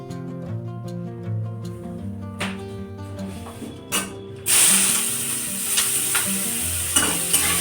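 Clattering of a pan and utensils, then a loud, steady sizzle of potatoes frying bursts in halfway through and continues to the end.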